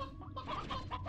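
Chickens cluck in the Slime Rancher 2 video game, a short run of close, busy clucks and squawks from a small flock.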